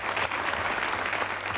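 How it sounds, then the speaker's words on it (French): Applause from a studio audience at a New Year's Eve television show, a short, full burst of clapping at a steady, moderate level with no talk over it. "je vous demande d'applaudir."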